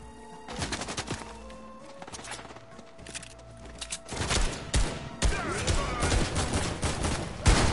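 Video game gunfire from Fortnite on PS4, scattered shots at first building into loud, dense volleys of rapid fire, with in-game sounds mixed in.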